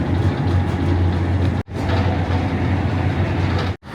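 A train running in the United Kingdom, heard from on board: a continuous low rumble and rolling hum fills the carriage, broken by two brief dropouts.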